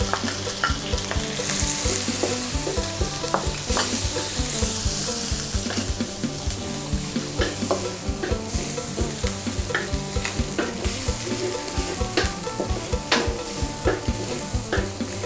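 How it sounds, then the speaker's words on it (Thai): Shallots and minced garlic stir-fry for shrimp pad thai in a loud, steady sizzle, broken by frequent scraping strokes of a spatula against the pan, close up and with no talking. "เราจะผัดไปเรื่อยๆนะคะ จนกว่าหอมแดงและกระเทียมของเราจะหอมนะคะ"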